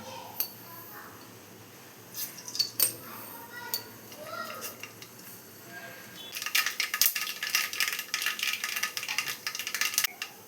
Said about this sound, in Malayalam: നമ്മുടെ കടുക് പൊട്ടി വന്നിട്ടുണ്ട്